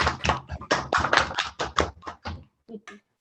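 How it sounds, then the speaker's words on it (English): Participants on a video call at an adoption hearing clap in quick uneven bursts, close and somewhat compressed, the applause thinning out into a few scattered claps at the end. "you can take it off of mute and you can give them some applause"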